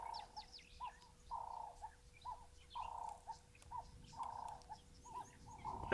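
Crested barbets calling outdoors in warm weather, a run of repeated chirpy phrases coming in regular bursts at moderate distance, with other faint birdsong in the background and no talking.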